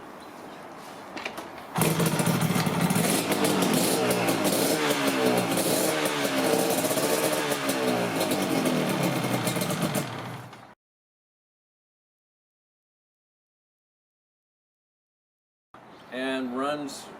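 A Yamaha RZ350 two-stroke motorcycle fitted with a 1985 CDI idles, then rises to a loud, steady, buzzing run for several seconds before cutting off; near the end, a brief burst returns.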